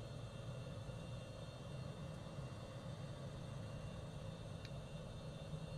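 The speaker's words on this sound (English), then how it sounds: "It's a cute little airplane." Steady drone of a small single-engine airplane in Microsoft Flight Simulator, cruising over Northern Ontario, with a constant low engine hum and steady cabin noise, even and unbroken throughout.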